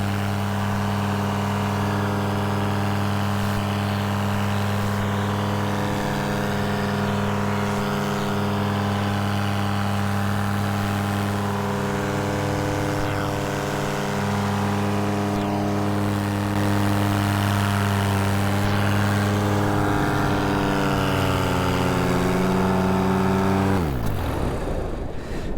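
A Thor 202 paramotor engine runs steadily with a strong droning hum, its pitch lifting slightly as the throttle is pressed, then dropping away sharply at the end as the engine cuts out.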